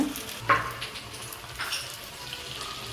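Soft sizzling and crackling of banana flower vadai frying in hot oil over a medium flame, with a faint bubbling hiss and a brief clink near the start.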